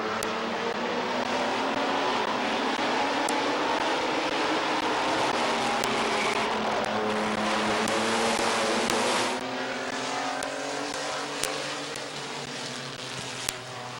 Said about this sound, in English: Trent Clark doing a good job up front, halfway home in our Ross Mountain Barbecue mini trucks.